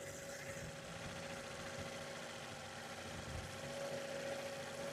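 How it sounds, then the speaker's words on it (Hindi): A cold car engine, freshly rebuilt in a garage, idles at slightly raised RPM with a quiet, even hum and faint mechanical ticking, steady and uninterrupted, recorded close by with no talking. "ठंडी गाड़ी, अभी आरपीएम थोड़ा सा हाई है।"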